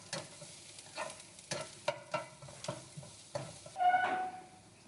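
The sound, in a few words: dried chilies frying in oil for Maggi goreng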